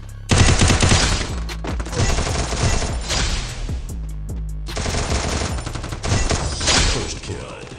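Gunfire in a 3v3 shooter video game match, loud rapid automatic bursts with brief pauses between volleys.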